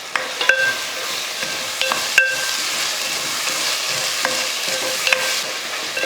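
Ginger garlic paste and two medium tomatoes sauté for a Chettinad chicken curry. A steady, loud frying hiss runs throughout, broken by a few sharp clinks of a spoon scraping the pan.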